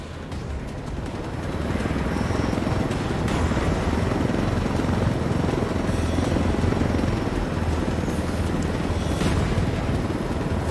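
Helicopter flying in the video game Ghost Recon Wildlands, a loud continuous rotor and engine roar that swells in over the first two seconds, then holds steady and close with no speech.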